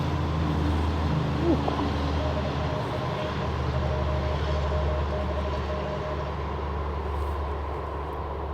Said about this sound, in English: loud truck was going by